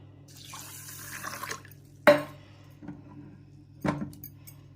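Rice being washed: water sloshes and splashes in a container, with a few distinct swishes and drips over a low background hum.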